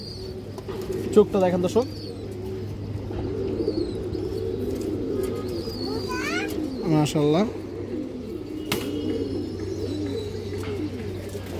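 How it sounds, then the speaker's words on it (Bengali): Pigeons in a loft of racing and high-flying birds coo in two short, rolling bursts over a steady low hum, while someone talks nearby. "এই যে দেখেন একবার ফ্রেশ কবুতর, কোনো ফাটা নাই, খুব সুন্দর কবুতর মাশাআল্লাহ"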